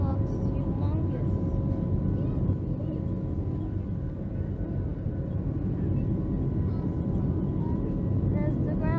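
A Southwest Airlines jet taking off from Fort Lauderdale airport, heard from inside the cabin as a steady loud engine roar and rumble with a faint tonal whine, continuous for the whole stretch while passengers talk over it.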